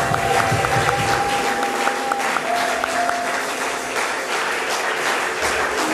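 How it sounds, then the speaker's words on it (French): A church congregation claps and cheers for Jesus, dense steady applause filling the room with crowd noise and a sustained organ or keyboard tone underneath. "Acclame encore le roi Jésus."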